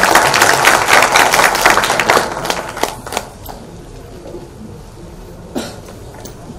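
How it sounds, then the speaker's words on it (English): An audience applauds a speaker at a civil services workshop in a hall, with dense clapping for about three seconds that then tapers into scattered claps, a cough and quiet room noise. "A round of applause for Ma'am Ahura."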